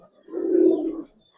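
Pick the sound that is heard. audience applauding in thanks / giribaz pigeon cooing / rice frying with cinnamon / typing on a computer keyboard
giribaz pigeon cooing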